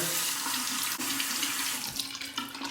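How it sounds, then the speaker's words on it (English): Hot water runs steadily from a tap over a large synthetic-bristle shaving brush, a close, continuous splashing stream that shifts slightly as the brush moves under it. "Let's warm it up under the hot water."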